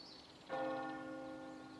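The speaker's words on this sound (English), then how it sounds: "For centuries, the church bells here have rung to call the faithful to worship." A single church bell strikes in the Normandy countryside, a clear resonant ring that hangs and slowly fades with no voices over it.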